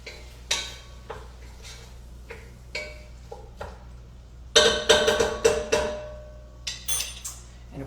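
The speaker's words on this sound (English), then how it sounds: "give that a stir" A spoon stirs tomato vegetable soup in a pot, with scattered metallic clinks and taps against the pot's side, bunching into a quicker flurry of scraping knocks midway before easing off again.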